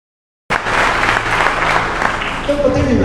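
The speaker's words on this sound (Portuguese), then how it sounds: "Você pode aplaudir Jesus para ele." A church congregation applauds during a worship service, a dense burst of clapping that starts abruptly after a short silence and holds steady, with some voices mixed in.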